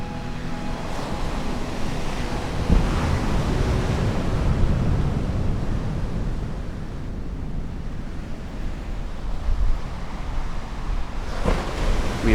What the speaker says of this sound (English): The ocean was rough here, and as we approached, the wind picked up.